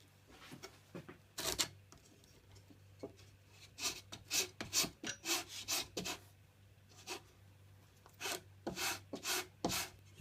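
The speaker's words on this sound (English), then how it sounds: "So now I'm ready to start sanding the other side." The edge of a classical guitar rosette is sanded by hand in quick rasping strokes, bursts of rubbing in an uneven rhythm, close up and fairly quiet, with no talking.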